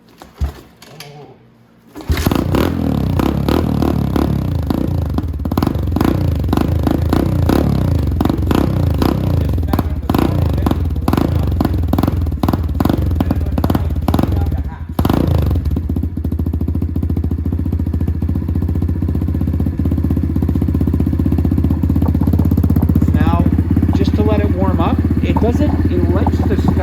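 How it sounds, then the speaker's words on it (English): A Venom dirt bike engine kickstarted and running on choke: a brief mechanical clatter, then a sudden catch into a loud, close, rapid popping idle that steadies into a smoother warming drone. "It likes to start with the choke on, but it doesn't like to warm up with it all the way on."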